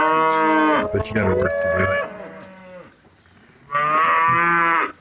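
Cattle moo loudly and close by on a hot farm day while being hosed down, with two long drawn-out calls separated by a short gap, and someone talks briefly between them.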